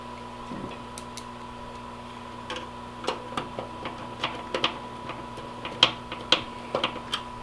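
Small hand-driven screw being turned into a part during a build, producing a series of faint, irregular clicking ticks that gather pace over a low steady background hum.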